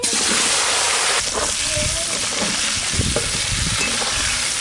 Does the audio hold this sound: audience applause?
no